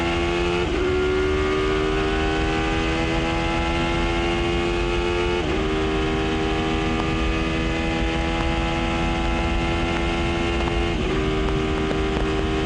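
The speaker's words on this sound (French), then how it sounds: "Et le bruit que fait cette Dome est impressionnant." Dome prototype race car at the 2002 24 Hours of Le Mans, its engine screaming at high revs with three sharp upshifts spaced several seconds apart, loud and close throughout.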